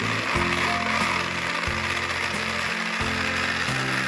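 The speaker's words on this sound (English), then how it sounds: "Now you can see the motor is running." A small electric motor runs in a simple battery circuit wired through a safety pin, buzzing and rattling in uneven chattering pulses that start and stop, close and fairly loud, with no talking.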